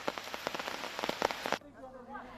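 Heavy monsoon rain pours down in Mangaluru, Karnataka, drumming densely on a surface for about a second and a half, then cutting abruptly to a quieter passage with a faint voice.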